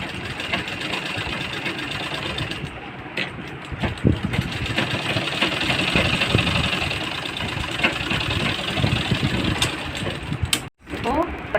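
A sewing machine runs steadily, sewing a top stitch over the belt strip of a blouse waistline. Its continuous mechanical whir and rapid ticking go on almost without a break, and someone speaks over it.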